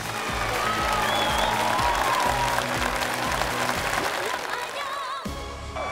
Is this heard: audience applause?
yes